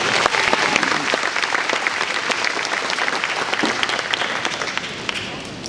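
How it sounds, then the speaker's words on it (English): A luncheon audience gives a big, loud round of applause, dense continuous clapping from many hands that holds steady for several seconds before beginning to taper. "So let's give them another big round of applause."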